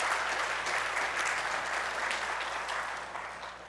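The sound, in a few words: congregation clapping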